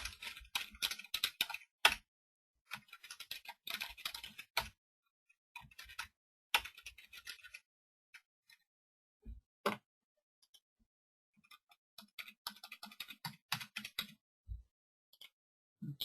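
Computer keyboard typing while a company's name and details are entered into a form, bursts of quick key clicks separated by pauses, with a few louder isolated taps, close and alone without talk.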